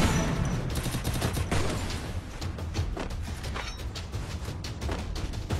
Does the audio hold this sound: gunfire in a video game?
yes